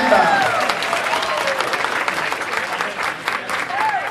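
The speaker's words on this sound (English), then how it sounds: "Another round of applause." A crowd at a Dominican Republic anniversary celebration applauds steadily for several seconds, the clapping dense and sustained, with voices and cheering mixed in.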